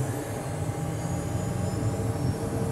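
Twin jet engines of a Cessna Citation spool up for takeoff on the runway at Chino, a steady, loud, broadband roar with a dense low rumble and a faint high whine that holds without a break.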